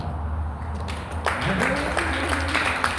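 A church congregation breaks into applause that swells from a low hum into steady scattered clapping, with voices and background tones underneath.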